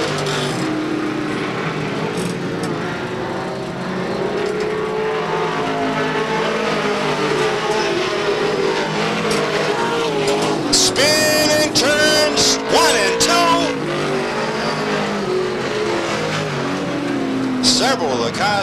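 Race cars lap Beech Ridge Motor Speedway in 1991, a dense roar of engines droning steadily with occasional tire squeals and nearer passes, under continuous race commentary.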